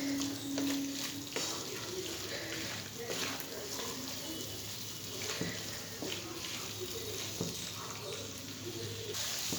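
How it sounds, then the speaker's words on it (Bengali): Soya chunks and capsicum frying over a high flame, giving a continuous broad sizzling hiss with small crackles and clatters, fairly steady and close. "হাই ফ্লেমে এটাকে কিছুক্ষণ ভাজতে হবে।"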